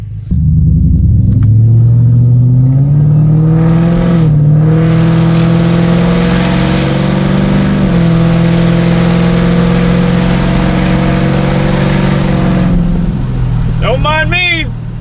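The Ford SVT Terminator-swapped Mercury Marauder engine roars loud and close, revving hard with a deep, sustained drone that rises and falls before easing off near the end.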